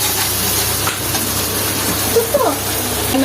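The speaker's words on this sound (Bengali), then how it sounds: "লঙ্কাটা কি সুন্দর করে ভেজে নিচ্ছি" Chili frying in hot oil in a pan, a steady loud sizzling hiss throughout, with faint voice-like tones briefly surfacing near the end.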